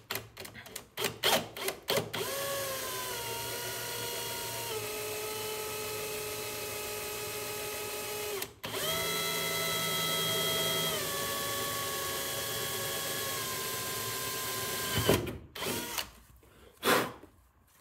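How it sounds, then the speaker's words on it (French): A power drill bores holes in the clamshell body panel of a Lotus Elise S1, with two long, steady high whines separated by a brief pause and framed by knocks and handling clatter. "Je suis quand même pas rassuré à l'idée de faire des trous dans mon clamshell"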